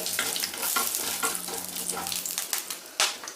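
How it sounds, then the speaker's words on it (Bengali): Mustard seeds and a pinch of asafoetida frying in hot oil give a steady close sizzle with scattered crackles, ending in a sharper pop near the end. "তেলটা গরম হয়ে গেছে এখন আমি এর মধ্যে দিয়ে দিচ্ছি খুব অল্প একটু হিং দিচ্ছি সর্ষেটা সর্ষেটা একটুখানি ফ্রাই করে নিয়ে"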